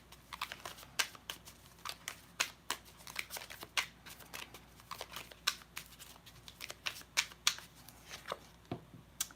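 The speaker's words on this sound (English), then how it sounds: "I'm using the Mystic Moon Twin Flame Journey Tarot cards." Tarot cards are shuffled by hand in quick bursts, a soft, fairly faint papery riffling and slapping that repeats in an uneven rhythm up close with no talking.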